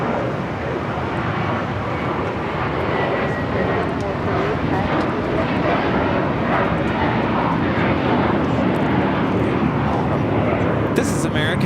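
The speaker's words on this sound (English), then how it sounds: "This is American Airlines 238 taking off to JFK on the A321" An American Airlines Airbus A321 jet takes off at Los Angeles airport, a continuous loud engine roar sustained without a break.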